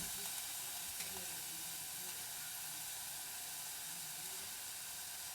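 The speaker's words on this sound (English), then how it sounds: "Just light sizzle." A steady, gentle sizzle of shallots and garlic frying in oil hisses continuously, soft and even throughout.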